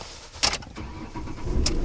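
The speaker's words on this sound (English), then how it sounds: "The car does a lot better when you put the key in it" A car engine started with a key: a brief jingle, then a cranking catch that settles into a steady, close engine hum that grows slightly louder.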